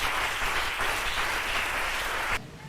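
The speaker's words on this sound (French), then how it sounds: "On acclame le nom de Jésus-Christ." A church congregation applauds loudly and steadily at a French-language worship service, the dense clapping sustained for over two seconds before cutting off sharply near the end.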